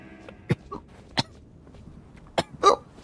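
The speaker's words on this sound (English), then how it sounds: "I'm coughing. Plus like hiccup. Oh no, I'm hiccuping." Several short, sharp coughs and hiccups from one person, four abrupt bursts spaced irregularly and heard close up against a quiet background.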